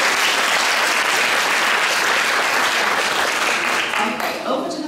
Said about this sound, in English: So a round of applause for Olivia.